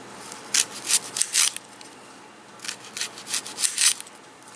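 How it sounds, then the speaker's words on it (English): A knife slicing through a juicy Red of Florence onion, in two bursts of crisp, wet cutting strokes close up, with no talking. "we're going to get it cut here and see what the inside of it looks like"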